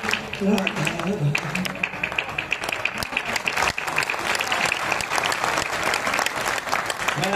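Audience applause at a Hindi kavi sammelan poetry recital, steady dense clapping from a large crowd sustained throughout, with some murmured voices mixed underneath.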